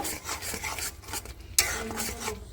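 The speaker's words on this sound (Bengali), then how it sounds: "দিয়ে ভালো করে নাড়াচাড়া দিয়ে নেব" A utensil stirs and scrapes ground spices, including a fried five-spice masala, around a pan for Bengali egg curry. The rasping strokes come close up in uneven bursts, with a sharper knock partway through.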